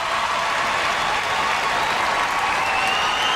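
Sustained audience applause fills a large arena at the Westminster Dog Show as show dogs are introduced, a loud, dense wash of clapping that holds steady throughout.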